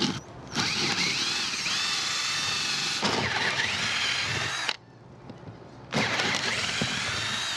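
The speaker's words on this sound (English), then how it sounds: "Right now I'm gonna start drilling" A power drill whines loudly in several sustained bursts, drilling holes in a sailboat deck, stopping briefly between them, close up with no talking.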